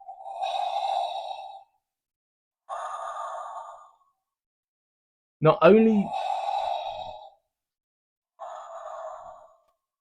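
Darth Vader's mechanical breathing from a Lights and Sounds Funko POP figure plays as four slow, hissing inhale and exhale cycles, close and clear, with a brief voice cutting in partway through.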